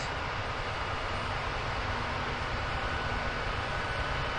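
A steady, droning Mi-8 helicopter engine whine in the game DCS holds without change throughout, a constant broadband hum with a faint tonal line, with no talking.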